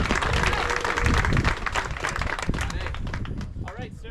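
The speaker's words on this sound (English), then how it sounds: "let's get a big round of applause for all of our athletes who are here today as well" Crowd applause for athletes at the Belgian Waffle Ride cycling event in California, dense clapping and cheering that tapers off, mixed with voices nearby.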